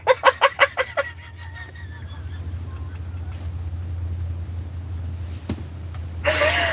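Several quick squawking calls from chickens open the scene in a rapid burst, then fade into a quieter background hum with occasional faint clucks and a rustle near the end.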